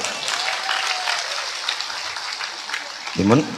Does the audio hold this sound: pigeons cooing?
no